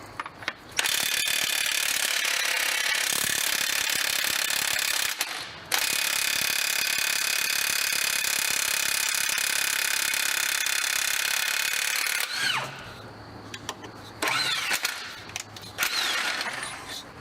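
Hand ratchet and tools working loose the 24 mm harmonic balancer bolt on a GM LS engine, a loud continuous clicking and grinding that runs for long stretches, then breaks into shorter uneven bursts near the end.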